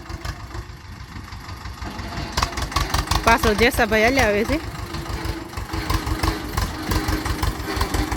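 A tractor loaded with groundnut stalks runs with a steady thumping diesel throb, close and fairly loud, while someone talks over it partway through.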